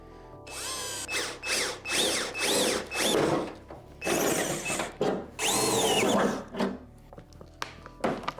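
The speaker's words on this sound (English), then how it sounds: "the part I'm gonna hate the most, and that is drilling a hole" A power drill whirs in several short bursts, rising and falling in pitch as it bores into material, loud and close with brief pauses between.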